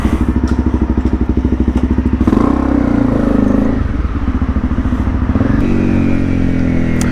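Honda CRF250 Rally single-cylinder engine running close and loud, a steady fast thumping idle that swells briefly as it revs and then settles, with no talking.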